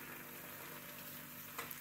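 Eggs fry in a pan for a weekday breakfast, a steady, even sizzle heard close up with no talk and a couple of faint clinks near the end.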